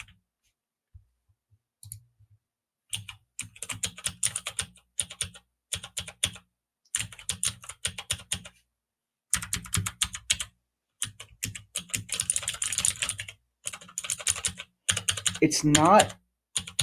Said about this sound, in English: we'll give you some key sound on this one as well